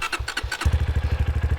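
A dirt bike engine runs close by in a steady, throbbing idle with a rapid pulsing beat, a few throttle blips at the start before it settles into an even rhythm.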